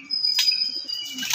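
Soft, low pigeon coos murmur close by in a short rolling sequence in a home pigeon loft, with a brief high chirp and a faint steady whistle behind.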